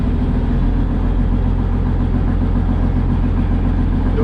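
An old diesel engine, rebuilt with new injectors, glow plugs and exhaust studs, idles nearby with a loud, steady low rumble and even rhythmic knock.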